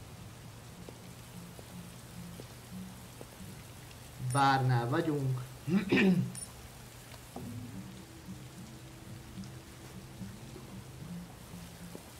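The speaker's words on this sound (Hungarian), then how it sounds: "November 5-e szakadó eső." Heavy rain in the video game Detroit: Become Human pours as a steady, dense hiss throughout, with someone speaking briefly over it and faint music in the background.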